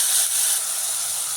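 Spices fry in hot oil for a cauliflower kurma, throwing off a bright, continuous sizzling hiss that stays fairly loud and even throughout.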